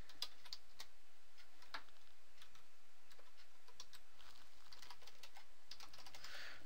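Username and password typed on a computer keyboard, a quick run of light, close clicking keystrokes in an uneven rhythm with brief pauses.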